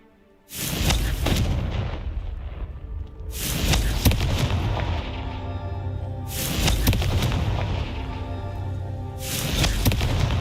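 Confringo fire spell explosions in Hogwarts Legacy, four loud booming blasts, each with a sharp onset and a long rumbling tail, spaced a few seconds apart with no talk over them.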